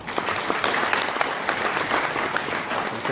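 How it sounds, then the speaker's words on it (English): Students at a law conference clap steadily through a felicitation ceremony, a dense, continuous round of applause filling the hall at a fairly loud level. "I request all the students to kindly keep clapping"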